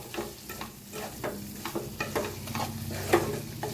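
Green chillies being stirred in a pan with ground peanuts and seeds, giving a soft, continuous sizzle broken by repeated scraping strokes of a spoon against the pan, close and fairly quiet.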